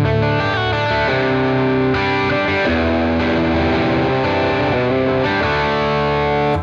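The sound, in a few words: electric guitar through Fractal Audio Axe-Fx II amp model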